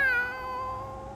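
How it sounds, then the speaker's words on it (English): Bone, a toy dog character in a video game, lets out a single drawn-out cat-like meow, clear and close, with a bright wavering tone that slowly falls and fades. "Bone sounds like a cat?"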